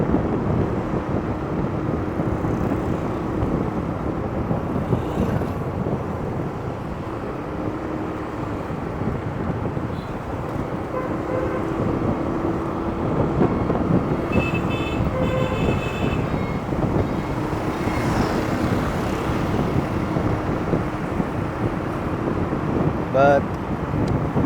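A scooter rides through busy street traffic in Da Nang, with continuous wind buffeting and engine and road noise surrounding the rider, and passing vehicles occasionally rising out of the steady roar.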